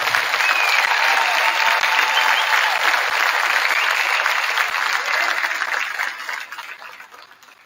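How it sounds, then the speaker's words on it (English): A gym crowd applauds a 2023 high school state championship team at a celebration, loud, dense clapping holding steady for several seconds before tapering off near the end. "let's give a round of applause to all these kids sitting down"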